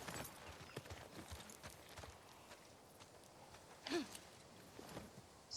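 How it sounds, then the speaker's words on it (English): Horse hooves clip-clop steadily at a walking pace in The Last of Us Part 2, moderately close, with a brief louder scrape near the end and faint ambient background. "Get back on the horse, Dina."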